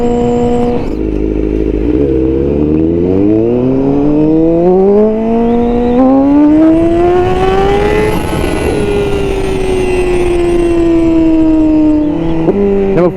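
A 2021 Honda CBR1000RR-R Fireblade SP, ridden with a flashed ECU, screams loudly as its engine pitch climbs through the gears. The revs rise steadily and then hold a high, strained whine, with brief dips at the gear changes and wind rushing underneath.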